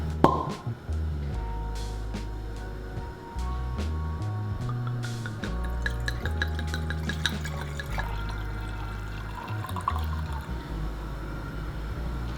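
Wine is poured into a glass in a home kitchen while pasta boils, a steady liquid stream that runs for several seconds over a low, constant background hum.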